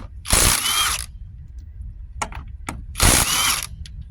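A ratchet or power tool loosens a lug nut on a 2006 Dodge Grand Caravan in two short, loud buzzing bursts, with faint clicks and knocks in between.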